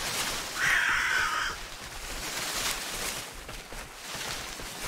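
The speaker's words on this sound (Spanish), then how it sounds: "Putos pájaros." Harsh crow caws ring out in the video game BigFoot, a short cluster of loud calls near the start followed by quieter rustling ambience.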